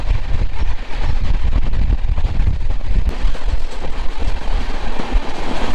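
A train rolls through the Dooars forest, a loud, steady rumble of wheels on track with rhythmic clatter and wind buffeting the microphone throughout.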